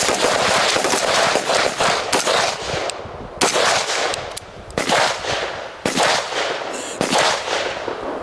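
Rapid rifle or carbine shots during a close range shooting drill ring out in loud, sharp volleys, several quick strings with brief pauses between them, near and echoing, with no speech.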